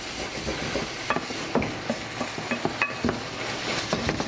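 Lemon chicken sauce with lemon juice simmers in a skillet, a close, steady bubbling sizzle broken by scattered clinks and scrapes of a utensil against the pan, with no voices.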